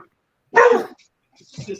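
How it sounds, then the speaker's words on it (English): A grown dog barks once, loud and close, indoors during a podcast recording, followed by a softer, shorter bark-like sound a moment later. "that was a grown ass dog. That was my dog."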